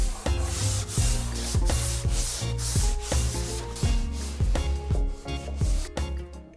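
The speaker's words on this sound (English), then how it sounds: "let's get a little bit of sanding going" Hand sanding of rough, paint-ready wood on a boat under construction: repeated rhythmic back-and-forth rubbing strokes, close and fairly loud, with a steady scratchy texture and no talk.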